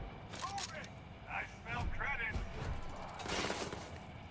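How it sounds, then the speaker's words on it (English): Scattered gunshots crack through a firefight in Starfield Shattered Space, a few sharp reports spaced out beneath and between someone talking. "we're in a firefight now"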